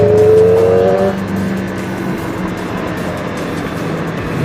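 A Kawasaki ZX25RR four-cylinder motorcycle engine on a test ride gives a loud, steady high-pitched wail that drops after the first second into a sustained roar mixed with wind rush.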